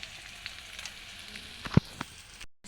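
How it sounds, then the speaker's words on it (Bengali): Chopped onions sizzle softly in hot oil in a pan, with a steady faint hiss and a few brief clicks and pops toward the end. "পেঁয়াজগুলো একটু লাল লাল করে ভেজে নিই"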